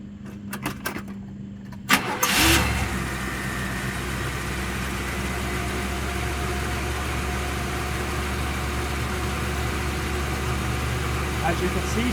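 A 1978 Oldsmobile Delta 88 with a dead cold engine cranks briefly, fires and settles into a steady fast idle, a close, even rumble that holds through the rest, with a voice speaking over it.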